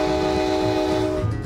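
An LM&M Railroad train sounds a loud, sustained horn blast close by, holding steady over a rumbling undertone before cutting off near the end.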